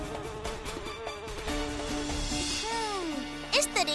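Flies and mosquitoes buzz inside a cartoon sweet shop, a thin whining drone running under background music and sound effects, with a voice briefly heard near the end.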